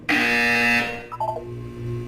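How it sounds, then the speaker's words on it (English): Loud harsh electronic buzzer in the video game Portal 2 sounds once, followed by a short series of falling tonal beeps over a low steady hum. "When you hear the buzzer, look down at the floor."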